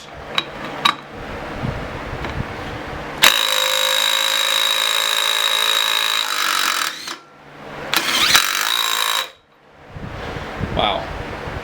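Cordless impact wrench run up to maximum torque, one of a Snap-on, Milwaukee and Dewalt comparison: a loud sustained whine and hammering burst of several seconds, then a shorter second burst, with lighter clicks and clatter around them.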